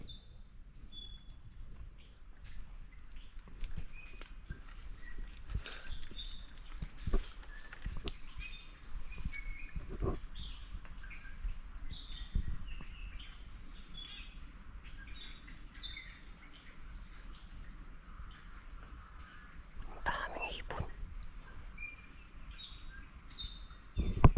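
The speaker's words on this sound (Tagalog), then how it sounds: "dami pong ibon dito sa kakahuyan oh" Birds singing in a wooded area, scattered high chirps and calls near and far over a steady insect hum, with occasional rustling and soft thumps.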